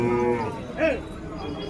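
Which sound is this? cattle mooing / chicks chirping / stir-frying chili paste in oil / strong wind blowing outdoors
cattle mooing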